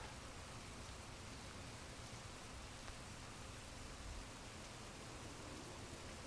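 Pouring rain in the video game Heavy Rain, a steady faint hiss of downpour that holds evenly throughout with no talk.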